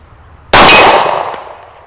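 A single sharp, loud report from a Bersa BP9cc 9mm pistol firing Federal 147 grain ammunition on an outdoor range at 25 yards, followed by a decaying ring, close to the mic with no talking.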